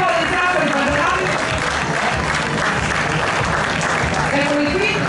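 A crowd gives steady, dense applause at a tournament award ceremony in Sardinia, Italy. The clapping is loud and continuous throughout, with voices mixed in beneath it.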